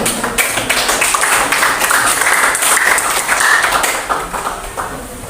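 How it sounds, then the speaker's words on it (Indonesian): Audience at a high school class debate applauding, a loud, dense burst of clapping that runs steadily for several seconds before tapering off near the end. "Kita memberikan tepuk tangan untuk"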